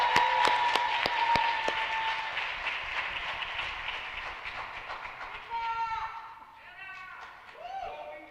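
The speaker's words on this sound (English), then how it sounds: "Everyone, please give a round of applause for Michaela Michelle Gonzalez" Audience applause at the Harlem Academy tenth commencement, a dense patter of clapping that rings out for several seconds, then thins into scattered claps as a voice begins to speak.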